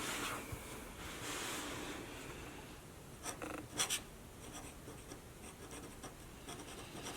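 A dip nib pen writing with red ink on paper, giving a steady close scratching that runs alone for several seconds, with a few brief sharper strokes midway.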